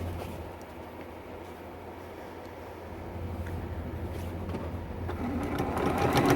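A sewing machine attaches binding to a T-shirt quilt with a steady low mechanical hum that grows louder and busier toward the end, close by with no talking.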